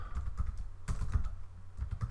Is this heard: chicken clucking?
no